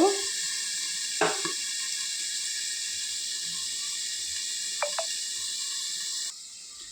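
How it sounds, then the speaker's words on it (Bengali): Food frying in a covered pan with a steady, fairly loud sizzling hiss, broken by a few faint clicks and taps. The sizzle drops lower near the end. "একটু ভাজা হয়ে যাক, চাপা দিয়ে দিই।"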